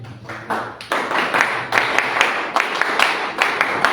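A crowd at a regional labor organization gathering in Ayacucho breaks into applause for a guest, starting with scattered claps and swelling into loud, sustained clapping with sharp individual hand claps standing out.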